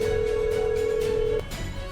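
A steady electronic phone tone sounds for over a second, then cuts off, leaving a faint background hum.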